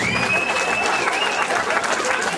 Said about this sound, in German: Und ich würde euch auch einfach bitten, einfach sinnlos Krach zu machen, einfach mal Applaus zu machen.